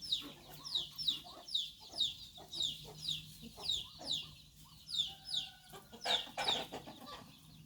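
Home-bred Burmese chickens clucking in a yard where they are left to mate naturally: a rhythmic series of short, soft clucks repeating about twice a second, fairly faint, with a brief louder squawk near the end.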